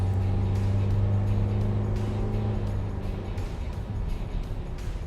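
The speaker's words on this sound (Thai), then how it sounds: "รอบเครื่องฟาทันทีนะครับ เร่งขึ้นไวมากนะครับ" A 2005 Mercedes-Benz Vito 115 CDI diesel van revs up quickly from inside the cabin, with a steady low engine drone that eases off after a few seconds into rolling road noise.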